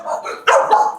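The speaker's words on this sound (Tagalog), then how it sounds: "Daming aso." Several dogs bark in quick bursts close by at a rented house, loud and overlapping, with a sharp yelp near the middle and no talk over them.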